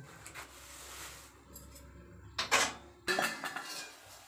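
A lid goes back onto a cooking pot of beans and ground pork, giving a couple of close metallic clanks and scrapes against the rim after some quieter rustling.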